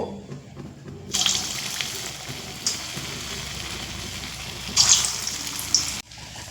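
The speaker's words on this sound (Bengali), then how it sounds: "বাকি কোপ্তাগুলো আবারও একইভাবে ভেজে নেব" Bottle gourd koftas fry in hot oil, and a loud, steady sizzle starts abruptly and holds for several seconds. It rises in brief bursts before cutting off, with no talking over it.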